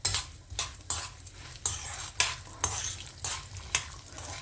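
Mustard seeds with urad and chana dal fry in hot oil, a steady crackling sizzle broken by regular spoon-against-pan scrapes roughly every half second, close and moderately loud, with no talking.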